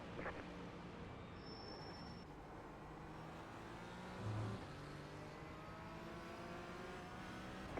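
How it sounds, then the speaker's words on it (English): A GT3 race car sweeps past in the iRacing sim, its engine note rising and falling as it draws near and moves off, with a brief louder surge in the middle over a steady hum of the player's own car. "Here, as other GT3 goes past by"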